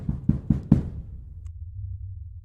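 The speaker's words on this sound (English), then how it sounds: "George Hughley would hear a knock at his front door" Four sharp knocks on a front door, close and evenly spaced over about a second, followed by a low steady hum with no talking.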